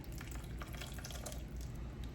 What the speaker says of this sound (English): So I am going to pour it over very slowly, just to cover the fruit.